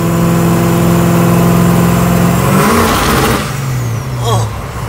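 Engine of a '62 Impala or '96 Impala running rough in cold weather, a loud steady idle with harmonic drone that stumbles and shifts pitch midway, with someone talking over it.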